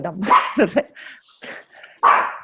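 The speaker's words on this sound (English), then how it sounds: "Yes, I have the dog." A dog gives a few close, loud barks and yips in short bursts, separated by brief pauses, heard during an indoor business meeting.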